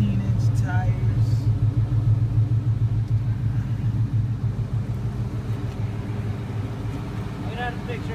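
A 2003 Ford Mustang SVT Cobra with Magnaflow exhaust idles close by, a steady low rumble running throughout while people talk over it.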